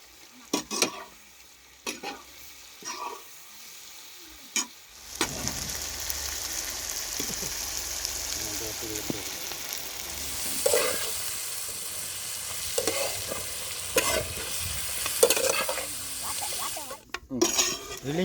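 Kerala-style chicken fry cooking with curry leaves in coconut oil, opening with a few sharp clanks of a pot and utensils, then a loud, continuous sizzle and crackle close by, broken by scattered stirring scrapes.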